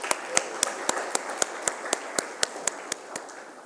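Regular, evenly spaced claps at a conference inauguration, about a dozen sharp, distinct hits in a steady rhythm over a quiet room, sounding like one or a few people clapping rather than a full audience.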